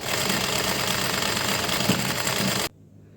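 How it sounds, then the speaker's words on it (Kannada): A sewing machine stitching a kurti, running in a fast continuous whir with steady mechanical chatter, close and loud for nearly three seconds before stopping abruptly into quiet. "ಅದರ ತಕ್ಕನಾಗಿ ನಾನು ಸ್ಟಿಚಿಂಗ್ ಹಾಕ್ಕೊಳ್ತಾ ಇದ್ದೀನಿ."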